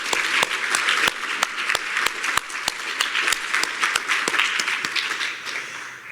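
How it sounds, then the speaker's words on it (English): Audience applause at a keynote session of a conference, steady dense clapping from a full room with sharp individual claps standing out, continuing throughout. "I think we need to give her another round of applause"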